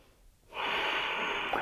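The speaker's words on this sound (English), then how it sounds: "I'm kind of breathing hard here, talking with all these poses." Heavy, hard breathing during a vinyasa yoga session, a sustained breathy exhale or snort-like rush of air close to the mic with no talking.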